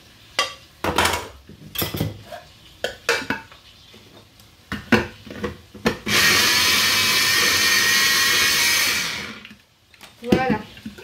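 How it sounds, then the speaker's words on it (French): Blender whirring through tomato for about three seconds, a loud, steady high-pitched motor roar, framed by clattering of kitchen utensils and dishes with someone talking in French before and after. "Et je mixe."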